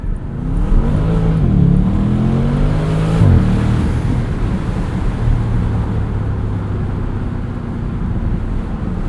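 A 2023 Bentley Continental GTC Azure V8 engine restarts from stop-start and the convertible pulls away. A loud, close engine rumble swells in two revving surges early on, then settles into a steady cruising drone.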